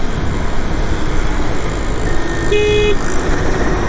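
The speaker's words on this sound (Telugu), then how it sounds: "హారన్ కూడా జబర్దస్త్ వస్తుంది" An Ather 450X electric scooter's horn gives one short beep partway through, heard over loud steady wind and road noise while riding.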